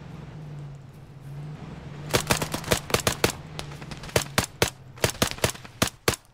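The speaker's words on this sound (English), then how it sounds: "Shots at east southeast." Gunfire from hostage rescue team training, heard outdoors. A vehicle engine idles alone at first, then bursts of rapid, loud shots break out in quick irregular volleys that continue to the end.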